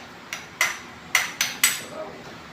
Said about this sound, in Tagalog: Dinudurog na natin yung kamatis.